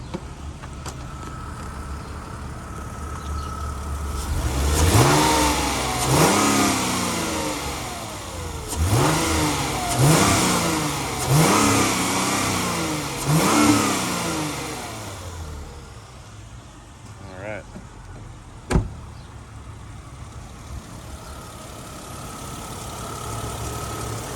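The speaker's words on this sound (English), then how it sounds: "I'm gonna rev it up a little bit so you can hear a little higher RPMs on the engine." A nearby 2007 Chrysler Crossfire engine revs repeatedly, about six rising and falling bursts in a row, then settles back to a steady idle with a sharp click.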